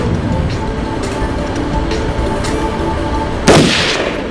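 A single sharp gunshot fired at a target rings out near the end, one loud broadband crack with a short decay over a steady low rumbling background.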